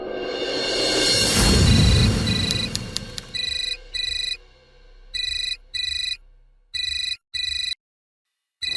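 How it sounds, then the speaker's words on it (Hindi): A loud whoosh sweeps through first, then a telephone rings alone in a steady series of electronic ringtone bursts separated by short silences. "भैया फोन बज रहा है।"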